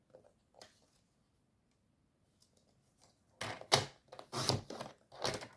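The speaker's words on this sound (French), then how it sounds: "Donc, je vais en couper 4 bandes." Strips of card are cut for a simple handmade greeting card, with faint small sounds at first and then a run of loud, close, crunchy snips in quick bursts.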